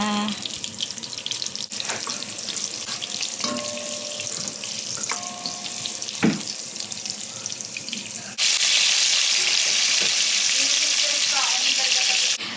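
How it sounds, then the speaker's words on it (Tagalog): Garlic frying in a pan for chicken adobo in a home kitchen, a close sizzle with clinks of a utensil. Partway through, a loud steady rush of running tap water takes over. "iprito muna natin ang ating bawang"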